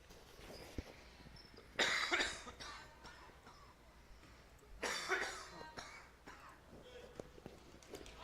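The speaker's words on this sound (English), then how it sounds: "Didn't blow my ears out with those coughs." Two separate bouts of coughing from a man with a cold, each a short burst of harsh coughs about three seconds apart, fairly close, over faint background noise from a hockey game broadcast.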